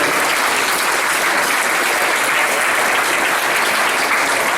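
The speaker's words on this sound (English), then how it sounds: "Give them a big round of applause, ladies and gentlemen." Graduation ceremony audience giving the graduates a big round of applause, loud, dense and unbroken clapping from many hands at an even level.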